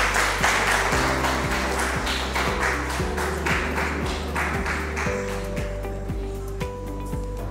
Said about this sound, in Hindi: मीनाक्षी शर्मा। एक बार जोरदार तालियां हो जाएगी।